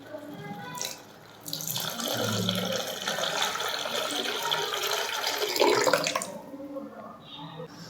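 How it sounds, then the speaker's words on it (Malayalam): Water poured into a simmering fish curry, a steady splashing pour lasting several seconds after brief talk, loud and close. "ഇനി നമുക്ക് ആവശ്യത്തിനുള്ള വെള്ളം ചേർത്ത് കൊടുക്കാം"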